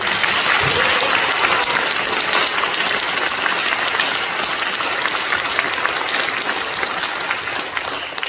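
A church congregation at a joint Easter worship service applauds loudly and continuously, a thick wall of clapping from many people that tapers slightly toward the end.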